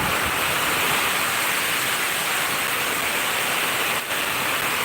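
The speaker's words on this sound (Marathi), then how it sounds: "वारा पण आहे पाऊस पण आहे चक्रीवादळ आहे पाऊस आहे" Dense, continuous roar of heavy cyclone rain and gusting wind in Ratnagiri, loud and unbroken, with no voices.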